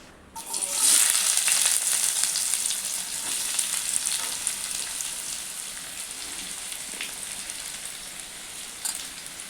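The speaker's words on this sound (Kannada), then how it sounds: "ಎಣ್ಣೆ ಕಾದಿತ್ತ, ಅದಕ್ಕೆ ನೀರುಳ್ಳಿ ಹಾಕುವ" Onions hitting hot oil in a pan for village-style biryani, bursting into a loud, steady sizzle after a brief quiet start, then frying on continuously alone.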